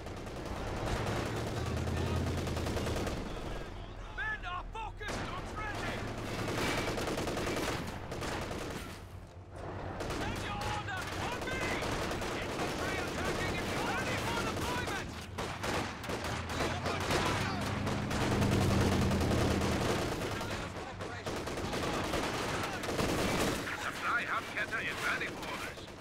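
Sustained bursts of Maxim machine gun fire rattle through a war video game, layered with distant artillery booms and explosions. A player talks over the shooting now and then.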